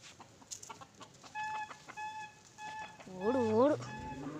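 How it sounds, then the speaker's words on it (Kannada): Chickens on a village poultry farm with thousands of birds cluck and call in a close, repeated series of tonal squawks, with a louder burst near the end over faint background voices. "ಕೋಳಿಗಳಿದೆ."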